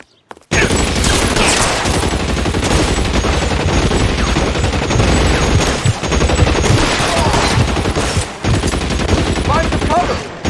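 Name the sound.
gunfire in video game L.A. Noire shootout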